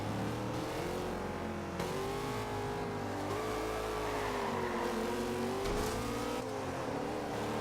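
Engine of a Mark IV Supra in a racing video game revving steadily, with rising and falling pitch and a dense, continuous roar up close for several seconds, no talk over it.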